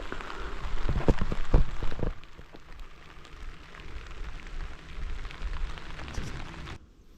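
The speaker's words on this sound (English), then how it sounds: "Just got to get through the little rain shower, that's all." Light rain shower pattering on a remote mountain campsite in southern West Virginia in spring, a steady soft hiss with a few louder drips early on, then fading out near the end.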